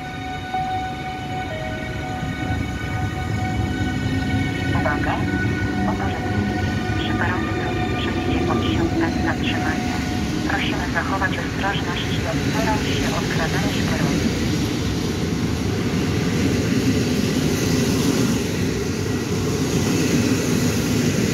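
An EU160-032 Griffin electric locomotive pulls a long passenger train out of Sopot station, producing a steady loud rolling rumble with whining tonal motor notes that rise and shift as it gathers speed. Someone speaks over the noise.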